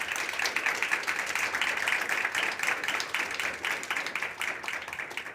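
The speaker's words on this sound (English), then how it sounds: "I would like to ask you to join me for a round of applause for these ladies on the stage." Audience applause for speakers on a stage at a cybersecurity conference, steady dense clapping from a crowd throughout, fairly even and sustained.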